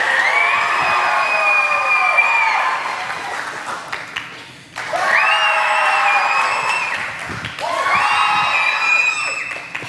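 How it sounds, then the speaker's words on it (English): A children's audience at a vacation Bible school show claps and cheers in three loud bursts, shrill young voices whooping over applause, each swell dropping away before the next. "When I raise the applause sign, you clap and cheer, okay?"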